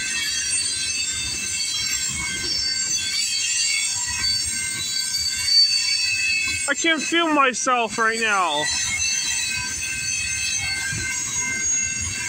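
A CP freight train rolls past at Campbellville, Ontario, on a frigid night, a steady rumble building into a few seconds of high, wavering wheel squeals before easing off. Someone speaks briefly over it.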